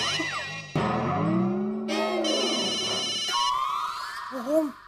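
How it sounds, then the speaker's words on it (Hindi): Mobile phone ringtone playing a melodic electronic tune with shifting tones and chimes, moderately loud and close, with no talking over it. "फोन बज रहा है, फोन उठाइए"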